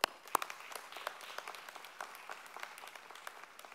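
Scattered audience applause at a Southside High School graduation ceremony for invited guests, a couple of sharp claps up front then a steady, moderate patter of many hands continuing throughout.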